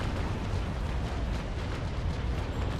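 Warship broadside cannons firing from the bow in the video game Naval Action during a 2nd rate battle, a dense continuous rumble of overlapping booms and blasts, loud and sustained without a break.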